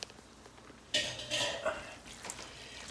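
Pasta and shrimp in garlic butter being stirred in a pan: scraping, sloshing utensil movements with a few clinks against the pan, close and fairly faint in a quiet kitchen.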